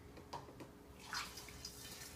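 Homemade almond milk is poured into a container in a kitchen, a faint, steady liquid trickle with a slight splash partway through.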